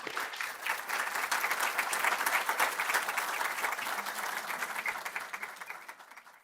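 An audience at an education alumni award ceremony applauds to welcome a speaker, a dense burst of clapping that swells early, holds steady, then thins and fades toward the end.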